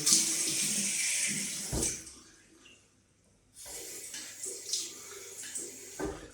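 Tap water runs into a bathroom sink during a shave with a T-shaped safety razor. It is a steady close hiss that drops away briefly in the middle, then resumes. No one speaks.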